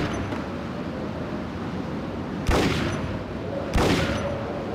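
Gunfire in the video game Max Payne, during a hotel shootout, with two loud, sharp reports a little over a second apart over a dense, steady rumbling background.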